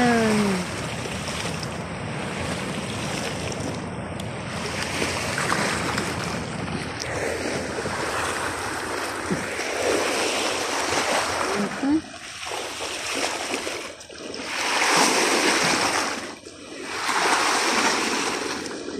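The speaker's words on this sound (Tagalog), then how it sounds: "Ang ganda ng alon, nakaka-relax." Broad rushing ocean surf washing in repeated swells, with wind buffeting the microphone; a voice talks over it now and then.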